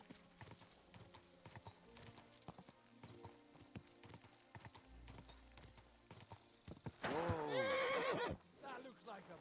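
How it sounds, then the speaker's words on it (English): A horse in the video game Kingdom Come Deliverance 2, with a steady clip-clop of hooves under game ambience and a loud, wavering whinny near the end. "That looks like a bloody expensive horse."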